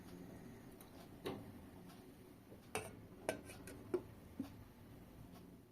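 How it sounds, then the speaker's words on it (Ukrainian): A stove is switched off and a pot of borscht is covered with its lid, heard as a few faint, soft clicks and light knocks against a quiet kitchen background. "Вимикаю плиту і накриваю кришкою"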